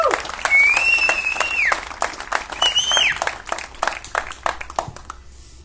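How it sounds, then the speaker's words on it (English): A rally crowd applauds legislators, dense clapping with loud whoops and cheering voices riding over it before it thins out and fades near the end. "Let's give them a round of applause as well."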